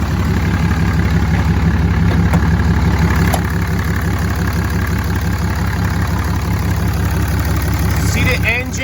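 A 2008 Dodge RAM 3500 SLT Big Horn with a 6.7 liter Cummins turbo diesel idles with the hood open, a loud, close, steady low clatter of rapid knocking pulses that runs unbroken and eases slightly at the end.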